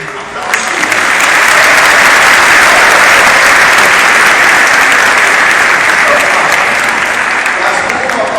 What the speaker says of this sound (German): für dich gibt es einen riesen dicken Applaus